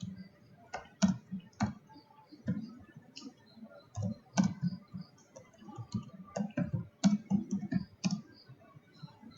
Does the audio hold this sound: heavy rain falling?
no